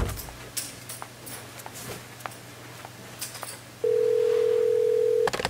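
A burner phone sounds a steady, loud electronic tone for about a second and a half, alone over a low background hum and faint clatter.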